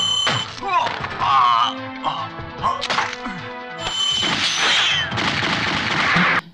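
Sharp gunshot cracks and thwacks burst amid a chaotic film fight scene, with shots, impacts and grunting voices overlapping loudly and continuously.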